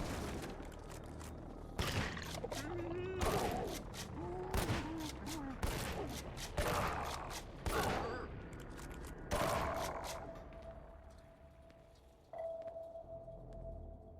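Gunfire in the first-person shooter Project Borealis: a run of loud, sharp shots and bursts spaced every second or so, with brief chirpy electronic tones between them and a steady hum near the end.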